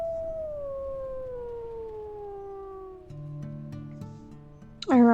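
A lone wolf's long, mournful howl in the video game WolfQuest, gliding slowly downward over several seconds, with sad game music coming in partway through and a brighter rising call at the very end.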